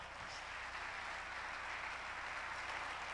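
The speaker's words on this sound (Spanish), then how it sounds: "Dele un aplauso al Señor" A church congregation applauds the Lord, a soft, even wash of clapping heard from a distance and sustained for several seconds.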